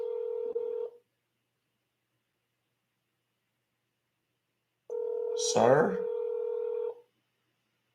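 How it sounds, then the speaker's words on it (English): Telephone keypad tones from a scam call, two bursts of steady beeping with a short buzz at the end of the second burst, loud and close, with a brief spoken word at the start. "Is that your phone making all that noise?"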